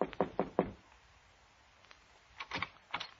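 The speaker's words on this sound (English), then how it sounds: "so I knocked on the door." Knuckles rap on an office door in a radio drama, four quick knocks, then a pause and three more, close and crisp.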